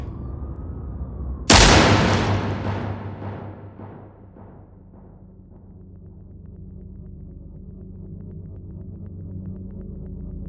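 A single loud gunshot cracks in an audio drama, a sharp near blast followed by a long fading reverberant decay, then a low steady hum that lingers afterward.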